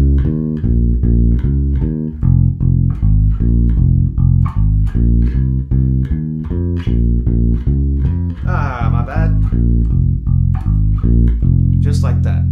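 A bass guitar plays a vintage-style 12-bar blues riff, loud and up close, with steady repeated low plucked notes moving through the chord changes in an even rhythm, and a brief scrape partway through.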